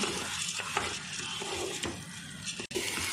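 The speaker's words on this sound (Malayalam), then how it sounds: "നമുക്കിത് നല്ലപോലെ മിക്സ് ചെയ്ത് കൊടുക്കാം" Rice being stirred into prawn biryani masala in a pot, a steady scraping, shuffling texture with soft sizzling underneath, close and continuous across a few seconds with a brief dip near the end.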